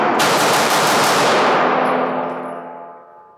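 A Springfield Echelon pistol fires six shots in quick succession, loud sharp reports close by that merge into a rapid volley, followed by a ringing tail and the ding of a steel target as the sound fades.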